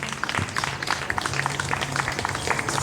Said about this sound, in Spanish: Dale un aplauso a Jesucristo, aleluya.